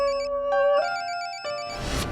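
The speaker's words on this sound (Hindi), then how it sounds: "सर, आपका फोन बज रहा है सर।" A phone rings with a bright electronic ringtone, a repeating chiming melody that stops after a couple of seconds, followed by a brief rustle.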